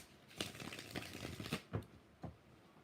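Quiet, close riffle-shuffling of a tarot deck, several quick papery bursts of cards snapping together in an uneven rhythm.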